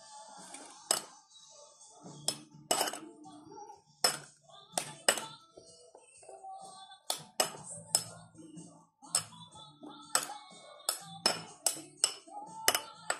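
A spoon clinks repeatedly against a small dish while stirring a pinch of Magic Sarap seasoning into a vinegar dipping sauce for boiled okra and eggplant, sharp close taps in an irregular rhythm.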